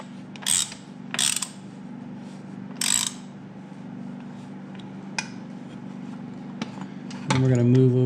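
A hand wrench ratchets, tightening bolts on BRP A-arm protection for a Can-Am Renegade ATV, giving three short clicking bursts and a few faint metallic taps over a low steady hum, then a louder clank at the end.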